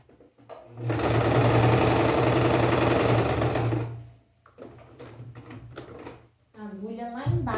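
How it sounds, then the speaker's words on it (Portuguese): Sewing machine stitching fabric in a beginner practice exercise runs at a steady, loud, continuous whir for several seconds. It then stops, and a voice speaks, followed by short bursts of stitching. "levanta calcador, vira o tecido, baixa calcador, vamos costurar."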